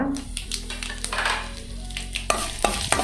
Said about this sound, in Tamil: எண்ணெய் கொஞ்சம் சூடாகட்டும். கடுகு, கடலப்பருப்பு, உளுத்தம்பருப்பு, வரமிளகா,